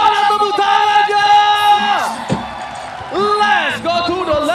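Crowd at an MPL ID Season 15 esports match between RRQ and NAVI cheering, whooping and clapping loudly and continuously, with a commentator's voice talking over the noise throughout.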